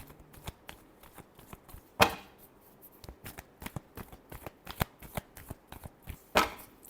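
Tarot cards being shuffled by hand in a repeated riffle of papery flicks and soft slaps, with two louder snaps of the deck, close and clear, no talking.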